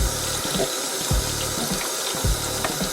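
Tap water runs steadily into a sink for washing a machine part, a continuous close splashing stream with small gurgles and a few light knocks, no voices.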